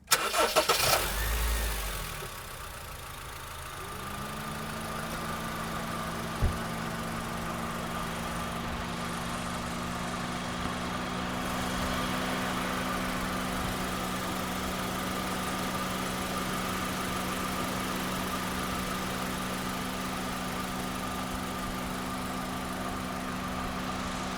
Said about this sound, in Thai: มาฟังเสียงของเครื่องยนต์รถคันนี้กันบ้างดีกว่านะคะ